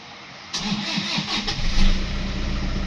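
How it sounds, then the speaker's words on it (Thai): A 2015 Toyota Vigo Champ 2.5 pickup truck engine cranks and catches quickly, then settles into a loud, steady idle close by. "เครื่องฟิตสตาร์ทติดง่ายครับทีเดียวติดชึ่งเลย"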